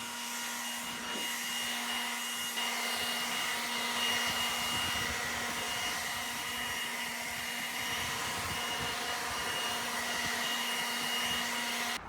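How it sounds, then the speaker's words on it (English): A Milwaukee blower clears the roof of a large tiny home under construction, giving a steady, close, high-pitched whine with an even airy rush that holds without a break throughout. "Milwaukee blower, prepping for grace."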